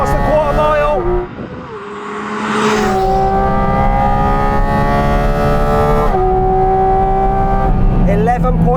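A Porsche GT4 RS launching hard at full throttle for a quarter-mile run, the engine dropping briefly at the start, then a loud, rising high-revving wail that climbs through the gears with a short dip at a shift, very close.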